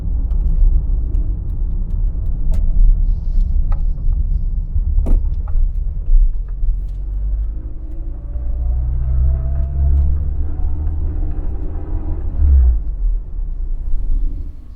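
A 1990s Rover Metro car drives along the road, its engine a low steady rumble heard from inside, with a few clunks and a shifting drone as it changes speed.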